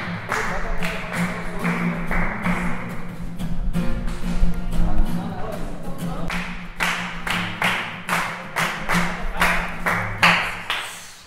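Hand clapping from a group joining in a samba song, a steady run of sharp claps over a dense bed of voices and music, loud and close throughout, with the claps turning more distinct and evenly spaced toward the end.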